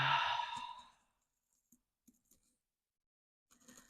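A long, audible exhale during a guided breathing exercise, released like a deep sigh, then fades into near silence broken by a few soft clicks and faint breaths.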